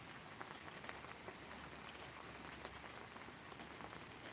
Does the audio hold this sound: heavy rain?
yes